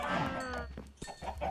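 Chickens cluck in Minecraft Skyblock, a few short, faint squawks and clucks in quick succession with no talking over them.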